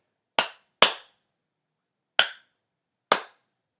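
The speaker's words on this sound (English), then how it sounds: "And now I'm going to clap it out," A teacher in a music class clapping a rhythm with fingers rather than the whole hand: four sharp, close claps, two quick ones followed by two spaced further apart, with silence between them.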